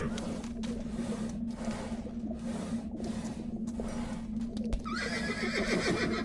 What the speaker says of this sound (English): I'm just gonna take my horse underwater for some reason